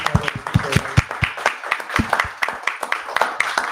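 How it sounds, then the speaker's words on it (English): Small group applause wrapping up a community painting discussion, distinct individual claps in a loose, uneven rhythm, close and fairly loud, with no talk over it. "Let's give ourselves or each other a round of applause."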